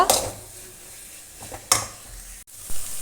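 A spatula stirs chicken curry masala in a pan, a soft sizzle under a few sharp metallic scrapes and clanks against the pan, close and fairly loud, no voices.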